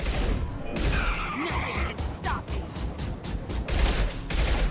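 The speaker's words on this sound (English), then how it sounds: "Nice shockwave, Jack." Combat noise from the video game Mass Effect 2 at Horizon: a biotic shockwave attack bursts amid dense gunfire, with a rapid run of sharp impacts and crashes over a steady loud battle din.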